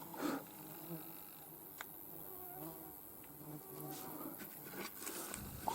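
A quiet, steady insect buzz comes from grasshoppers in a field under the hot sun, with soft rustles and ticks scattered through it and no voices.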